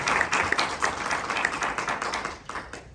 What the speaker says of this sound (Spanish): les pido un aplauso para Gerardo